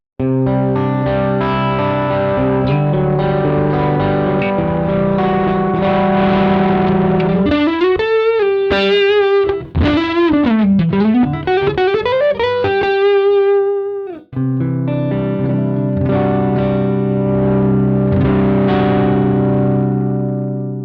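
Loud, distorted electric guitar through a Surprise Sound Lab Rock Block plays a sustained lead with bends and vibrato, swooping pitch slides in the middle, then settling into held chords.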